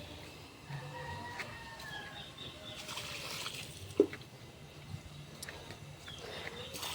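Water sprays steadily over garden plants in the afternoon as a soft, continuous broadband hiss, with faint bird chirps and a single sharp knock partway through.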